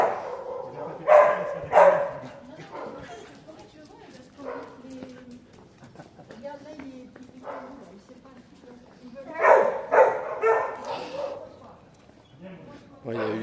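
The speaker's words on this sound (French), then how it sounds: "Ils ont entendu un autre chien qui criait" Several short barks and yelps from a dog, with a crying whimper, come in clustered bursts separated by quieter stretches, while people talk nearby.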